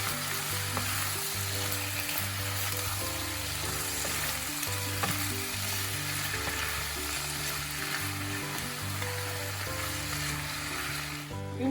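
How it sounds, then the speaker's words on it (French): Swiss chard is stirred into a hot pan of sizzling oil, a steady close frying hiss with occasional scraping and stirring clatter throughout, no voices. "on vient plonger nos blettes on va mélanger le tout."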